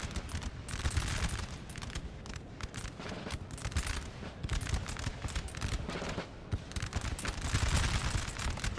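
Musket volleys in the video game Napoleonic: Total War 3 during a multiplayer Waterloo battle, a steady crackling fusillade of many overlapping shots rolling on continuously at moderate loudness.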